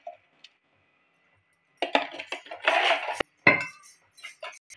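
Eggs being mixed with salt and pepper in a bowl, a quick run of utensil clinks and scrapes against the dish after a short quiet pause.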